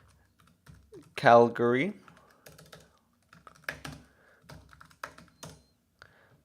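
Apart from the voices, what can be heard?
typing on a computer keyboard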